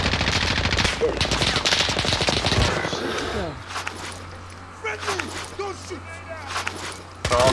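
Rapid bursts of M4A1 rifle fire crackle loudly during a Call of Duty Warzone match, then give way to a low hum with scattered gameplay sounds while players talk over it.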